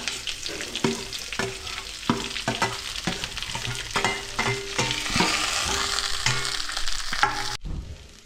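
Shallots and green chilli sauté with roasted coconut for a raw cashew curry, giving a continuous sizzle broken by regular scraping strokes of a stirring spoon, then cutting off abruptly.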